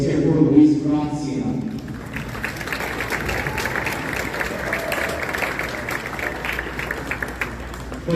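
An audience applauds as a speaker is welcomed onto the stage at a college tennis championship event, a sustained wash of clapping that follows a brief stretch of announcer talk.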